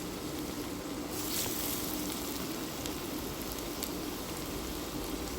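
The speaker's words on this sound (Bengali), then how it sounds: "এখন একটা কড়াইতে পরিমাণ মতো তেল দিয়ে কাবাবগুলো আমি ভেজে নিচ্ছি" Raw banana kebabs shallow-frying in a little oil in a wok give a soft, continuous crackling sizzle, even and fairly faint throughout, with occasional tiny pops and no talk.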